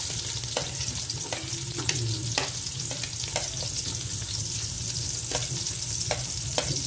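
Onions stirred into hot oil with garlic sizzle steadily in a pan, and a spatula scrapes and clinks against it at irregular intervals, close and unbroken.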